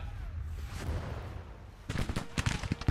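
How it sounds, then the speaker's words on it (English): Lorenz rifles crack in Grand Tactician Civil War, a scattered volley of sharp shots starting after a quiet stretch of ambient battlefield noise, then several distinct reports in quick irregular succession. "Here goes our Lorenz's first shot."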